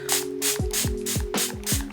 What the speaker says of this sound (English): you're just going to take your setting spray and just